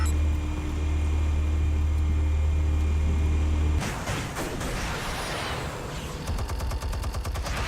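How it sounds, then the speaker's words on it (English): Automatic weapons firing from the ceiling in the Batman Telltale game: a low mechanical hum cuts off into a dense, rattling stream of rapid shots that continues to the end. "Automatic weapons coming out of the ceiling. Explosives armed. Fire when ready."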